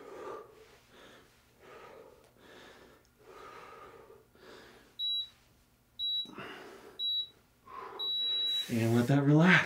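A workout timer at the end of an interval in a home cardio and strength session sounds several short, sharp electronic beeps, close by. They come over heavy breathing and a person talking.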